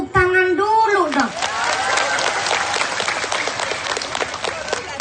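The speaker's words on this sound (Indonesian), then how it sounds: "Tepuk tangan dulu dong" A crowd at a large Islamic religious gathering breaks into applause after a voice trails off at the start, dense clapping then continuing steadily at moderate loudness.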